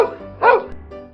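A single loud bark from a dog in a Hindi cartoon, short and close, standing out over a faint steady background.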